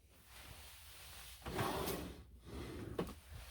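A craft room storage drawer is pulled open and pushed shut, giving two sliding rumbles with soft knocks, close and quiet, with no talking.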